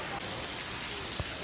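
Heavy rain pours outside at a resort during spring break, a dense, constant hiss of falling water with a brief louder patter near the end.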